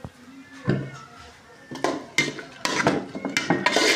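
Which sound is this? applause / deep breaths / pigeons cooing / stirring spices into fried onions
stirring spices into fried onions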